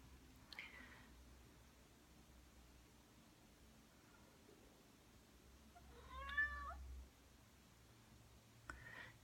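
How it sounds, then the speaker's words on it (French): A house cat gives a short meow, faint against a quiet room hiss, with a few soft rustles before and after it. "J'ai des chats."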